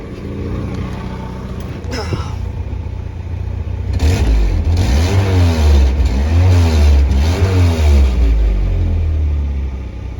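A 1986 Pontiac Fiero engine, just tuned up, revs up with a loud low rumble and then settles into a steady, slightly uneven idle, close to the microphone with no talking.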